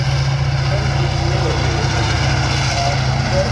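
A Russian T-72 tank engine runs at a display, a steady, loud low rumble with a continuous droning hum and no breaks.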